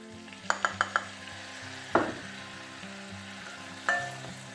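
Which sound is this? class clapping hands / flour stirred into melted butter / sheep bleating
flour stirred into melted butter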